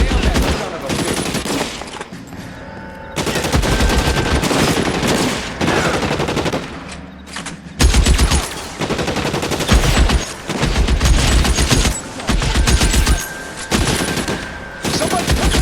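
Gunfire in the L.A. Noire video game: loud, close bursts of rapid automatic and single shots come in repeated volleys with brief pauses between, and a few game voices call out amid the firing.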